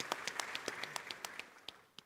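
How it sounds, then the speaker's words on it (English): Conference audience applauding at a day-one banking event in Ghana, heard as sparse, distinct hand claps that are faint and distant, spaced unevenly over about two seconds. "Please give him a round of applause."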